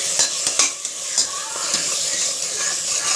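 Ingredients for mushroom biryani sautéing in a pan, a constant close sizzle broken by repeated spoon scrapes and clinks against the pan.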